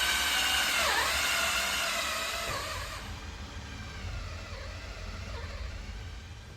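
A power drill spins a priming tool on the oil pump drive shaft to prime an engine's oil system, giving a steady high whirring that runs loud, then drops in pitch and level partway through and continues more quietly.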